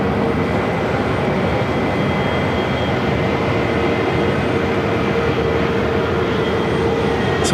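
A UPS heavy cargo jet lands at Phoenix airport, its engines a steady, loud, broadband roar that fills the whole stretch without letup, with no talking over it.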